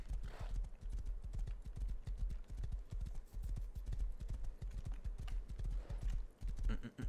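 A horse in the survival video game Rust trots along with rapid, even hoof clip-clops, moderately close, with a brief whinny near the start and a quiet voice underneath.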